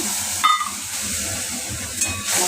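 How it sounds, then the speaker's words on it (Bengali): Cumin, black cumin, green chilli and turmeric hit hot oil in a pan for a fish curry, giving a steady soft sizzle and hiss with a couple of brief clatters as the spices go in. "একটু জিরে, কাঁচা লঙ্কা, কালো জিরে, হলুদের গুঁড়ি এসব দিয়ে এই যে মশলাটা এবার ঢেলে দিই।"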